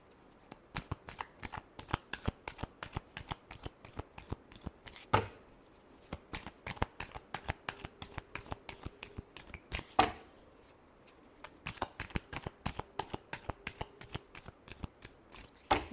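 A deck of tarot cards is shuffled over and over by hand during a Leo weekly horoscope reading, producing steady rapid riffling bursts close up with brief pauses, with no talking.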